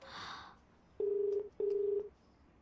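Two clear telephone keypad tones beep in quick succession as a number is dialed, crisp and close in a quiet room.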